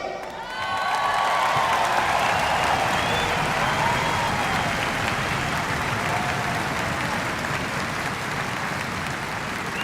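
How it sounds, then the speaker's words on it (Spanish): An audience breaks into sustained applause, a dense crowd of clapping that swells in within the first second and holds steady to the end, with scattered cheers mixed in. "Muchos me aplaudieron"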